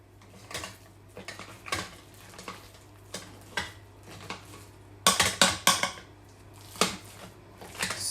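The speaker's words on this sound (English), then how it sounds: "Some butter. A little bit of milk. And just mash it in." Potatoes mashed with butter and milk in a pot for a Jamaican corned beef and fish pie, giving soft irregular scrapes and clinks of a masher against the pot, moderately close, with louder bursts toward the end and no talking.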